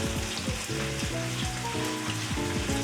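Sauce sizzling steadily in a pan as it coats the food and reduces, a constant bubbling hiss running under background music.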